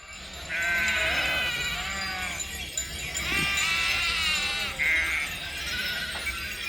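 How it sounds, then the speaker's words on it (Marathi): A large flock of sheep arriving at an evening camp in a Pune-district village bleats continuously, many overlapping voices near and far, with a steady crowd murmur throughout and no clear talk. "बघा पूर्ण मेंढ्या येऊन राहिल्या."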